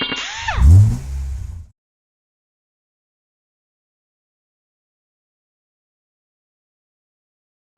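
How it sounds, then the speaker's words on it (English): A 2000 Chevrolet Silverado engine revs hard for about a second and a half, rising and falling in pitch, then cuts to near silence. "All right, so we got the vehicle running now."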